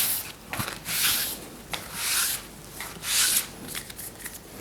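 ESP cards being shuffled by hand, close-up rubbing and sliding swishes in repeated bursts of roughly a second each with short gaps between, no voices.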